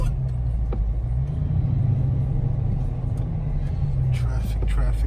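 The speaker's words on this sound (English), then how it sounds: "Traffic." Highway traffic in New York City heard from inside a 2019 Dodge Charger Scat Pack, a continuous low road rumble and engine drone filling the cabin, steady and fairly loud throughout.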